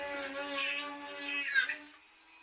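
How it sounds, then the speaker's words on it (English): A Dremel rotary tool spins a 3mm bit to enlarge a drilled hole while building a game-media workstation, giving a steady, close, high-pitched whine for about two seconds before tapering off. "So I used a 3mm bit next to expand the hole."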